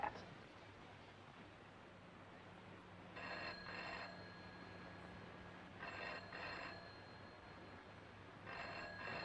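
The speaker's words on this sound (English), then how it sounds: "They're ringing your room." Old-fashioned telephone bell ringing in bursts of two rings, repeated three times at a steady interval, fairly faint, over a constant low rumble of a moving train.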